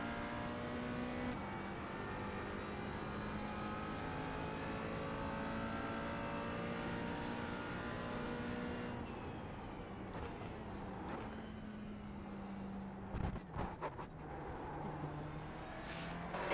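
A race car engine during a test session at Charlotte drones steadily and loud while the driver works throttle and brake, the pitch shifting and briefly dipping near the end.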